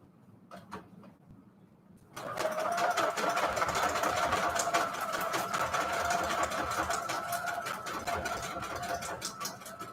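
A sewing machine stitches decorative fancy stitches through bedsheet fabric notecards. It starts after about two seconds, then runs as a steady, fairly loud mechanical whir with a fast rhythmic needle clatter that holds to the end.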